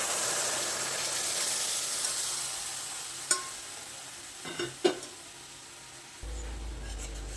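Hot milk going into roasted semolina in a pan for halwa, giving a steady soft hiss and sizzle with a few sharp clicks and clatters. The sound shifts to a lower, duller bubbling near the end.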